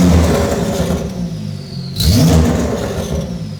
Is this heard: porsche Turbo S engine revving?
yes